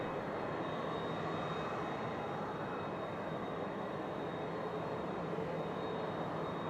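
An airliner on final approach at Toronto Pearson airport (YYZ) on an icy winter day, a faint, steady broadband roar of jet engines heard from a distance with no talk.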